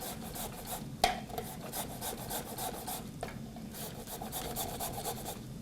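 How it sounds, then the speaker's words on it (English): A lime is rubbed against a handheld zester, giving a quiet, repeated rasping scrape with a couple of small knocks. "So I have my zester, which hopefully this does a good job."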